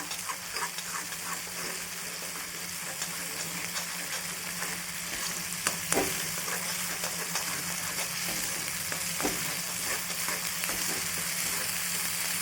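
Homemade masala paste fries in hot oil in a pan for palak paneer, a steady close sizzle with occasional stirring scrapes and small pops, no voices.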